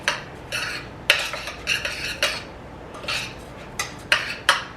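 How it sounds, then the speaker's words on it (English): A spoon stirs quinoa and beans in a pot, scraping and clinking against the sides in a run of loud, close, irregular strokes. "So I stir it up."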